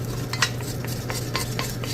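A utensil scrapes around the edges of a pot of browning oxtail meat for stew, several short scrapes and clinks in a loose rhythm over a low, steady background hum.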